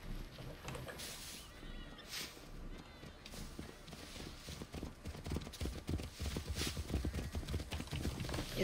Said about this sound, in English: Just have to hijack the horse.